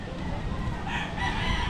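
Chickens clucking with a rooster crowing, a busy farmyard chorus that swells toward the end, close and fairly loud.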